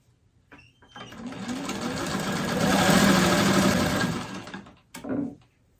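A sewing machine stitches fabric pieces in one continuous run of about four seconds, swelling to a loud, rapid mechanical whir before stopping, with a brief click just after.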